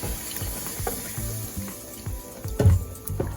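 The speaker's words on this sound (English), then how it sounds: "And we're just going to stir, stir, stir." A spoon scrapes and clacks around a pan of vegan cashew gravy with sausage crumbles, making irregular knocks and wet bubbling over a soft sizzle.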